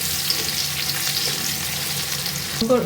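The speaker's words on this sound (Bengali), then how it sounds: "সাত আটটা রসুনের কলি ছোট করে নিয়েছি লাল লাল করে ভাজি করে শাকটা দিয়ে দেবো" Small chopped garlic cloves fry in hot oil in a pan, a steady close sizzle throughout, with a brief stirring clatter near the end.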